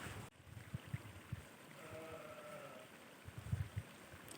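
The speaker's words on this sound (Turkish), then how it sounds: "Bak bu su sesini seviyorum bu kadar." Water flows steadily in a home garden, a soft continuous trickling wash under scattered low knocks and thumps.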